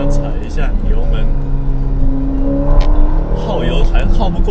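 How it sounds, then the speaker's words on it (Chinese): A Ferrari Portofino engine revs under throttle, a steady loud hum rising in bursts, with people talking over it inside the car. "法拉利，你这样踩一下油门，"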